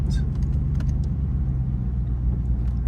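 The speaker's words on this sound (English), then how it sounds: "Purple Aventador and a green GTR just went past." A purple Lamborghini Aventador and a green GTR pass by on the road outside an Audi service visit, their engines a steady low rumble that holds loud and close throughout, with faint clinks and voices mixed in.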